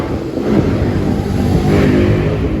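A car's engine drones and swells as it passes close by, over a constant broadband roar of busy road traffic.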